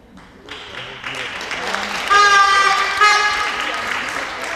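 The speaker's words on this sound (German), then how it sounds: "Applaus" Applause from spectators at a youth women's Oberliga handball match in a sports hall, building midway and mixed with crowd noise, a sustained horn-like toot and voices.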